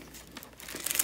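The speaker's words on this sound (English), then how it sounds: "And let's unwrap it," Crinkling paper and plastic wrapping on a mailed Etsy journal package being pulled open, soft close rustles and small tears building louder toward the end, no talking.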